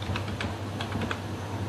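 Keys are typed on a computer keyboard to enter a one-time password on an online admission form, a quick run of about a dozen soft, close clicks over a steady low electrical hum.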